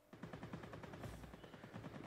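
Rapid machine gun fire from aircraft in the World of Warplanes air-combat game, a fast continuous rattle of dense bursts that carries loud and unbroken throughout.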